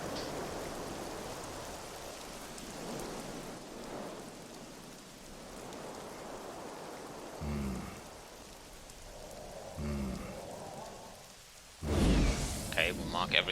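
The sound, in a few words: rain in The Witcher 2 video game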